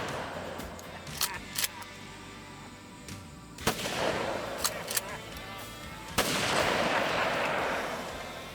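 Shotguns are fired during a bear hunt, giving several sharp, close blasts spaced a few seconds apart, the last two followed by rolling echoes.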